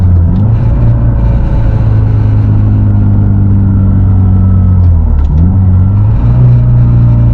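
A modded Mazdaspeed driving in second gear, a loud steady engine drone heard from inside the cabin, with the pitch dipping and climbing slightly at two points.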